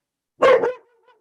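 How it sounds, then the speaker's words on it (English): A single dog bark, loud and close, sounding in a quiet room during a town select board meeting, followed by a faint trailing whine. "dog disagrees."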